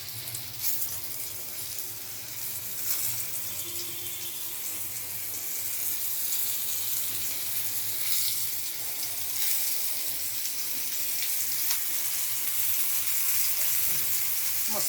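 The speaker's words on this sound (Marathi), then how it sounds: "आता मी मांदेली तळायला सुरुवात करते" Mandeli fish frying in hot oil over a low flame, giving a continuous crackling sizzle with faint bubbling and occasional spatters, fairly close and steady throughout.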